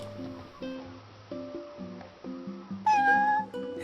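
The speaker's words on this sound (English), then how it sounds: "oh, cat!" A cat in the video game Final Fantasy XV gives a clear, close meow near the end, rising over a soft, steady background of layered game music.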